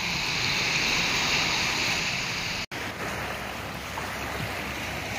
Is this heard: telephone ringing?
no